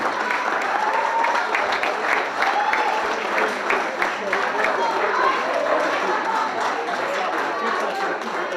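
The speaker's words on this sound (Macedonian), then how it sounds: "Аплаузи за Нипром" Sustained, dense applause from the audience at the 40th anniversary celebration of the Makedonija volleyball club in Strumica. Clapping stays steady and loud throughout, with voices mixed faintly into the crowd noise.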